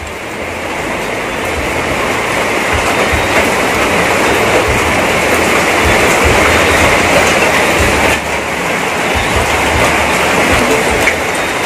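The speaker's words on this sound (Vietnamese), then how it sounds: "Trời hiện tại đang mưa." Steady rain falls around an abandoned house as a loud, continuous wash of dense hiss that stays nearly constant for about twelve seconds, with no voices.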